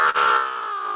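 A teacher's voice imitates a scream during an English lesson: one sustained, strained shout of about a second, loud and close, with a brief catch near the start and no other talk.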